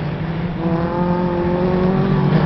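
A Renault race car roars along the track at the Fol'Car event in Bourges, 2012, its engine a loud, steady drone with rising pitch as it pushes on, no voices over it.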